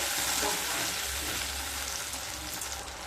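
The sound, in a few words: tomato paste frying and being stirred in a pan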